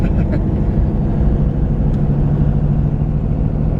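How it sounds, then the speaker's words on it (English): A 1950 Ford Custom's engine growls in a steady low rumble with a possible small exhaust leak under the hood, continuous and fairly loud throughout, with no talking. "I think part of the growl that we're hearing is maybe a small exhaust leak under the hood"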